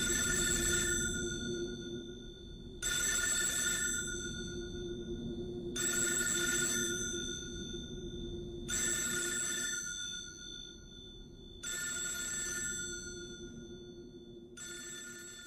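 A telephone rings in bursts of about two seconds each, repeating six times at steady intervals in a scene from the 1999 film Audition, set over a low background hum.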